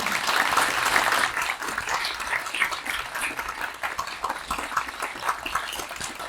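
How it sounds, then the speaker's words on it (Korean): Crowd applause at a national media workers' union executive launch ceremony, a steady dense clapping that carries on for several seconds at moderate volume. "동지 여러분, 뜨거운 박수 부탁드리겠습니다."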